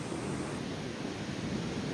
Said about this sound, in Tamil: அப்படியே இந்த கடலை பாருங்கள் கொந்தளிக்குது கடல்